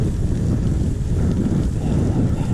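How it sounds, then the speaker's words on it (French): Steady cold wind buffeting the microphone outdoors in a forest, a low continuous rumble with no voices. "Je sais pas si vous entendez le petit vent, mais alors c'est un vent glacial qui s'est levé là."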